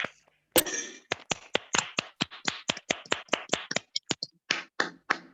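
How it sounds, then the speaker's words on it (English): Several people in an online club meeting clap one by one over their unmuted microphones, producing a string of sharp, distinct claps with brief gaps between them rather than a continuous roar. "Can we have a round of applause?"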